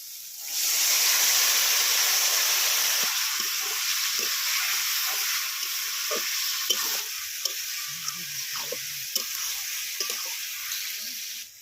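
Sliced ridge gourd and fried potato sizzle in a hot pan with salt and turmeric, a loud steady frying hiss punctuated by the clicks and scrapes of stirring, with no one talking.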